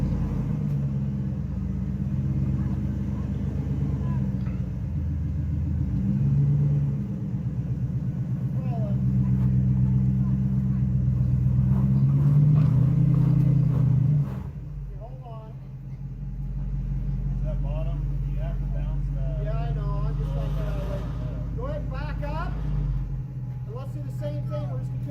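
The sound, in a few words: Dodge Durango driving past in memorial ride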